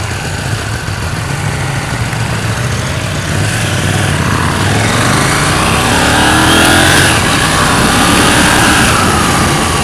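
A KTM 790 Duke motorcycle on a sunny test ride, its engine loud and close under heavy wind rush, rising in pitch as it revs and accelerates.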